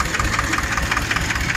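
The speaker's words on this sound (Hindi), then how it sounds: "ये मेड इन इंडिया ट्रैक्टर है," A 36-year-old Indian-made HMT 2511 tractor engine idling nearby with a rapid, even diesel knock, low and throbbing, steady throughout with no talking.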